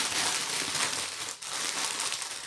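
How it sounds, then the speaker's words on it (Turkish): A plastic bag crinkling as a variegated rubber plant bought from a market is unwrapped, dense close crackling and rustling that runs continuously with a brief dip midway. "Şöyle bir açayım poşetinden."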